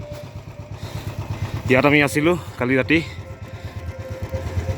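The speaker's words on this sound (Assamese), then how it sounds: "Warming up motorcycle." A motorcycle idles to warm up on a freezing morning, with ice on the seat, its low engine pulse steady and near throughout while someone talks briefly over it midway.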